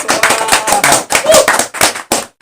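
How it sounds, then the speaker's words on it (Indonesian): A short burst of quick, bright claps from a small group, fading out at the end. "tepuk tangan dong semua"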